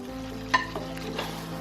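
Chicken and fried potatoes being sautéed in a pan make a gentle, steady sizzle, with one sharp utensil knock and a couple of softer stirring scrapes over a low background hum.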